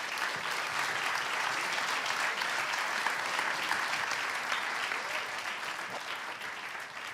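Sustained audience applause at a film producers' conference in New York, steady and even clapping from a large crowd lasting throughout without a break.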